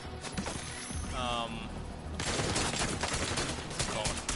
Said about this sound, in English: we start using the shotgun, the exotic shotgun